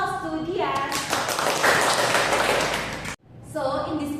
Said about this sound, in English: Applause to Dias.